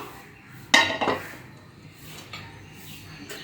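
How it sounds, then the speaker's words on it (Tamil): A metal kadai is set down on a hot tawa over a gas flame, one sharp clank followed by a smaller rattle, then a quiet background. "இப்போ நம்ம கடாயில் தான் தம் போட போகிறோம். கடாய் வச்சுப்போம்."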